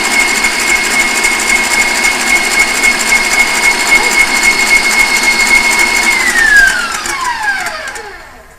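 An electric mixer whips egg whites into meringue for a cake with a loud, steady high whine that drops in pitch as it winds down and stops.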